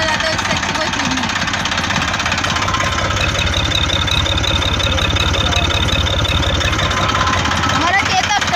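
A Chetak tractor idles with a turbo whistle fitted on its silencer, giving a loud, constant, close-range engine drone. A thin, high whistling tone rises over it midway, and some talk may sit under the noise.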